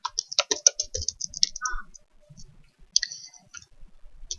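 Typing notes on a computer keyboard, a quick cluster of close, crisp key clicks followed by sparser scattered taps, fairly quiet with no talk.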